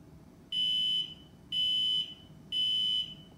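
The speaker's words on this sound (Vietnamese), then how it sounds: "Khi khởi động phần điều khiển của tay cầm thì mình set 3 tiếng kêu bíp bíp bíp đồng thời là đèn nháy 3 cái." A PS3 controller driving an Arduino Bluetooth RC car (T-rex kit) gives three loud, evenly spaced high-pitched beeps on startup, each about half a second long, alone over a quiet background.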